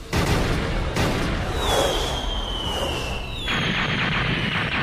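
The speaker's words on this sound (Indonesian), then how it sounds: "angkatan laut ikut campur dengan menembaki meriam dari kejauhan" Navy cannons fire from a distance in the animated One Piece Gold battle, heavy booms and rumbling blasts layered with a whistling streak, all loud and dense without any talk.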